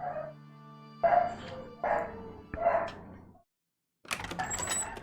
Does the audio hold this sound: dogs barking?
yes